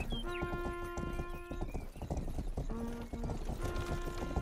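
Horse hooves clip-clop steadily in the Western video game Rustler, a dense rhythmic patter of hoofbeats with a whinny and bright game music layered over it.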